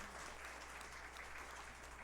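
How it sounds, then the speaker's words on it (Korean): A congregation applauding during a Sunday church service, a steady wash of clapping heard from a distance, faint and unbroken for a couple of seconds. "큰 박수로"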